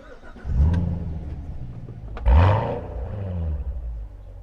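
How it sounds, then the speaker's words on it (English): A 2014 Chevrolet Corvette Stingray Z51 with a manual gearbox, a pre-production car, cranks and catches, then roars with a loud rev burst at about two seconds before settling into a deep, rumbling idle. "let's fire it up and see what it sounds like."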